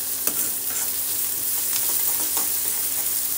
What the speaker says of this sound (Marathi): एकदम फुल फ्लेम वरती याला असं शिजवून घेते, म्हणजे फ्राय करते.